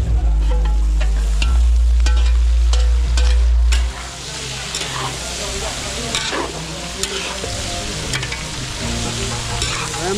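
Meat sautés with garlic and onion in a pan for catering, giving a loud, busy sizzle and crackle with stirring and scraping throughout, and a heavy low rumble early on.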